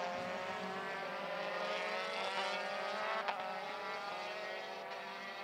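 Euroformula open-wheel race car accelerating hard around the Barcelona circuit during qualifying, a high, steady engine scream heard at a distance and fairly faint.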